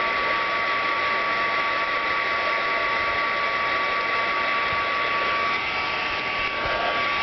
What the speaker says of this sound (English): I have my Recollections heat tool